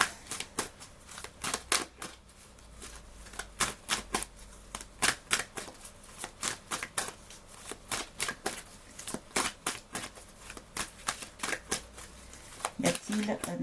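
Tarot cards are shuffled and tossed down in quick, sharp riffles and flicks, dense and irregular across the whole stretch, close up, with a voice talking softly underneath.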